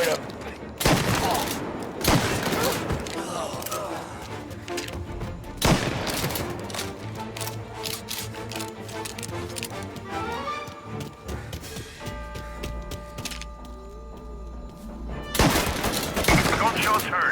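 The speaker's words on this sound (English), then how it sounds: "Gunshots heard." Gunfire in Mafia: Definitive Edition, with bursts of loud shots and rapid volleys breaking through game music, plus scattered voices between the shots.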